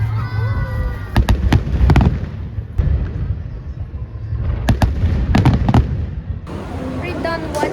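Bursts of fireworks crackle and pop in quick clusters, with a crowd murmuring and voices talking underneath throughout.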